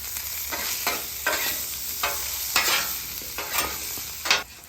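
Onions and potatoes frying on a flat-top griddle while being mixed, a constant sizzle broken by a series of sharp scraping spatula strokes at irregular intervals, close up with no talk.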